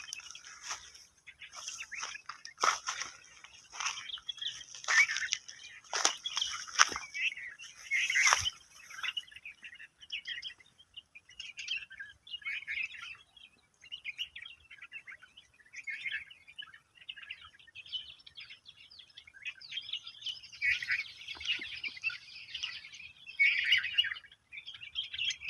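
Birds chirp and tweet in a jungle, with many quick high calls overlapping in bursts, some near and loud and others fainter, with short quiet gaps and no voices.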